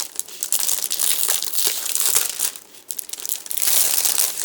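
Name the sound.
handling plastic bag the light pad comes in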